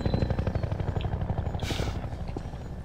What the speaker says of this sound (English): And now I still have to kill the helicopter.